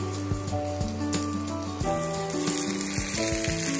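Spice paste of ground mustard with chopped ginger and salt hits hot oil in a pan for a Bengali sorputi fish curry, giving a steady close sizzle with a few sharp bursts and spatters throughout, no talking.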